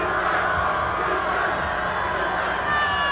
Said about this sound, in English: Crowd really getting behind the defense now